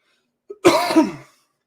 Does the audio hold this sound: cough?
yes